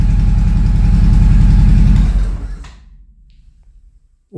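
A Honda Shadow motorcycle engine idles loudly and close by on its first start after a new battery is fitted, a steady throbbing rumble that cuts off after about two seconds and fades into quiet.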